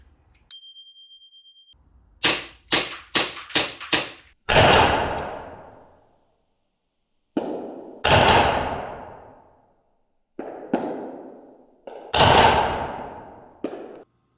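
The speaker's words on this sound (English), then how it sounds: "I got an old towel and I hung it up inside and just fired a few rounds at it to see what would happen" Airsoft pellets are fired indoors at an old hanging towel. A quick run of five sharp cracks is followed by several heavier thumping impacts with decaying tails, spaced irregularly with silent gaps.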